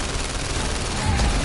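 Rapid, continuous gunfire in the VR shooter The London Heist during a motorbike chase, a dense unbroken rattle of shots held close and loud for the whole moment, with no talk over it.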